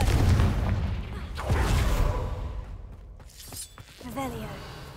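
A Confringo fire spell goes off in the video game Hogwarts Legacy, a loud booming blast that decays with crackling debris, followed by softer magical effects and a voice calling out.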